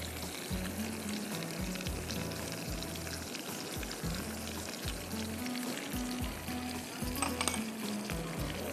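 Chopped onions sizzle and fry steadily in a hot pan, a continuous crackling hiss with faint stirring scrapes, close and fairly loud throughout with no talking.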